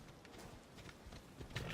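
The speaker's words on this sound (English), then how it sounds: "I will ride this flaming horse" Horse hooves clip-clopping as a flaming horse is ridden in the video game Assassin's Creed Odyssey, a quick run of soft rhythmic hoofbeats, faint and fairly close, with no talk.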